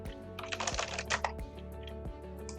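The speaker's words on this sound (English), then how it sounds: "Under the search tool, I'm going to type in online training." Quick, uneven keystrokes on a computer keyboard while entering a search term on a website builder, close and clear, with a few heavier key thumps over a faint steady hum.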